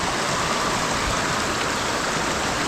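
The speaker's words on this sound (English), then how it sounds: "All right, and there is a waterfall" Steady broadband rush of water from a waterfall on a forest hiking trail at Maunawili Falls on Oahu, Hawaii, a dense continuous roar heard close and loud throughout with no talk.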